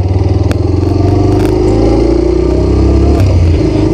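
A 2023 Bajaj Pulsar 125 with E20 fuel injection, ridden and turned in a small area, its single engine putting out a loud, close, steady pulsing idle-to-low-rev thrum with slight clatter.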